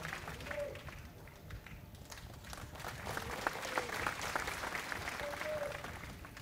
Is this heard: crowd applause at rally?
yes